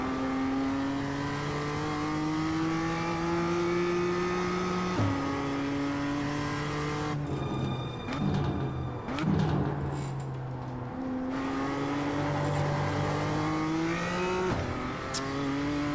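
Toyota GR86 race car in iRacing revving loud and steady through rising gear sweeps, with short lifts and downshifts mid-run before pulling hard again; no talking over it.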